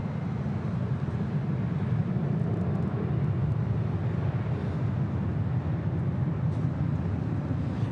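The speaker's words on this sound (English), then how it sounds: "WestJet Flight 1511 taking off to Calgary on the 737-700." WestJet Boeing 737-700 jet taking off from LAX, a broad distant roar with low rumble rising gently and holding steady, fairly faint and continuous with no voices.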